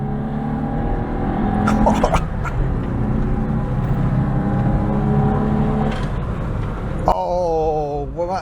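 A 1984 Nissan Cherry Europe engine drones steadily while driving, revving up and shifting partway through, then climbing again near the end, loud from inside the cabin.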